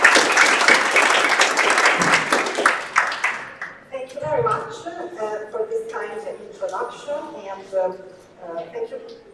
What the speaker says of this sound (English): if we could all give a round of applause for our speaker